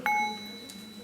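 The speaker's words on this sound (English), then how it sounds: "So the sound of the bell is the same." A meditation bell is struck once, giving a soft, clear ring that fades quickly in a quiet hall.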